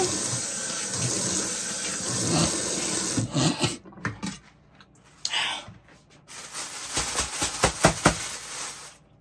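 Tap water runs and splashes during washing in salted water, with scraping and rubbing against the sink, steady at first and then breaking into uneven bursts.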